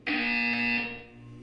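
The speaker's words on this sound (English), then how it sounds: "You will hear a buzzer." A loud electronic buzzer from the video game Portal 2 sounds in one sustained, harsh tone, then cuts off and leaves a faint hum.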